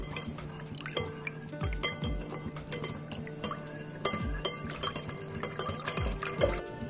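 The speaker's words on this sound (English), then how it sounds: "Then you mix it." A mix of evaporated and condensed milk is stirred in a bowl, with repeated utensil clinks and scrapes against the dish alongside wet, sloshing liquid sounds.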